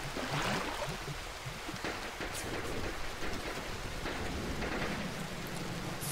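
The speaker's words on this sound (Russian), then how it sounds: "Сильный проливень пошел." Heavy in-game rain pours in a steady dense wash with low rumbles of thunder underneath, constant and close throughout, from a military tactical shooter set around jungle villages.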